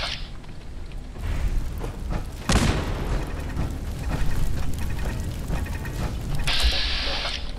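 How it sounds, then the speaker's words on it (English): An automated turret in the Fallout 4 Automatron video game grinds and clanks mechanically. Ratcheting whirs and a sudden boom come through a dense, steady din that lasts throughout. "Sounds like a turret."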